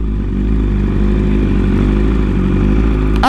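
A Honda 1000RR sport motorcycle cruises along, its engine a loud, steady, close drone with a brief sharp burst of noise at the end.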